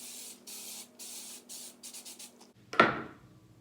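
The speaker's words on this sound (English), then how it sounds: "put a little hairspray on your fingers and you can just piece those pieces together" Hairspray comes out as a run of short aerosol hisses, close and clear, the bursts growing quicker and briefer, then a single louder rustle at the end.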